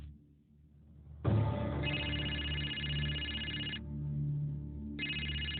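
A mobile phone rings with a steady synthetic ringtone, fairly close and clear, starting after a second of quiet and continuing with a brief dip before resuming, with no talk over it.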